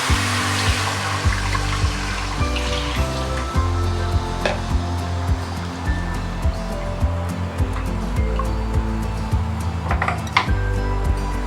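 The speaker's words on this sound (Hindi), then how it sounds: "1 लीटर पानी डाल दूँगी।" A liter of water is poured into a pan of frying masala of besan and dried fenugreek, giving a continuous rushing splash with hiss and sizzle and a few clinks of utensils, close and steady, with no talk.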